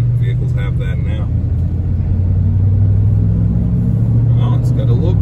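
A Chevrolet Silverado High Country pickup truck accelerating, heard from inside the cab as a loud, steady low engine rumble that swells slightly while occupants talk over it.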